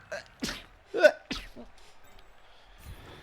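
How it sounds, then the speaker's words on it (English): A single sharp sneeze bursts out near the start, followed by a few short breathy sounds and quieter trailing noises. "I'm going to sneeze"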